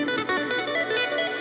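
Electric guitar tapping played messily with poorly synchronized hands gives a dense, smeared run of fast notes, blurry and uneven rather than crisp, continuous and close with no talking.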